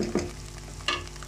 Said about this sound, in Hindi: इन्हें अच्छी तरह मिक्स कर लें।